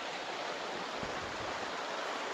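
Water rushes through a field irrigation channel on a farm, a steady broadband rush that is fairly faint and even, with no one talking.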